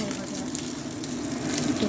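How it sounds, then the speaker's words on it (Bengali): Pointed gourd slices fry in a pan, giving a steady, close sizzle and hiss that holds evenly for the whole moment with no talking. "আর পটল ভাজা"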